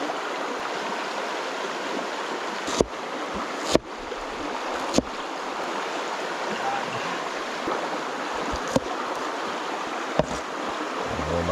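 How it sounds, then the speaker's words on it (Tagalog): Water heating in a cooking pot for a fish sinigang soup with vegetables, a steady broadband bubbling and rushing wash with a few sharp clinks and taps over it, fairly close and without talk. "Ipakulo na tayo ng tubig"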